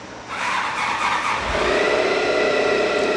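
A 2006 Honda ST1300 sport-touring motorcycle engine starts up. A brief crank gives way to a steady, smooth idle that holds close and fairly loud.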